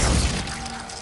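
Glacius ice spell in Hogwarts Legacy shattering, a brief loud icy crash that tapers quickly into a dull ringing tail.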